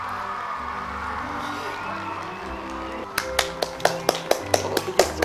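Applause in the Harry Potter film's Great Hall after Harry is sorted into Gryffindor: sharp, rhythmic hand claps begin partway through, loud and evenly spaced, over crowd noise and faint talk.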